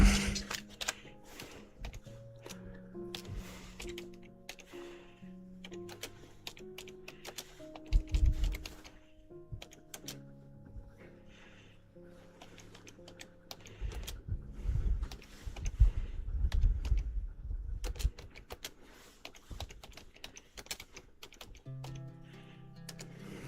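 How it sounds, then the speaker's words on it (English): Keys clatter on a computer keyboard as a chat message is typed, soft tapping that runs under a loud, busy bed of racing-game music and engine noise. "I'll type a message even."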